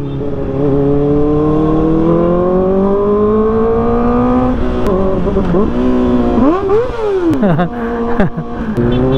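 A sportbike fitted with an IXIL slip-on exhaust made in Spain revs loudly and close, its engine note climbing and falling through several sharp throttle blips, ending in a rapid rise and drop.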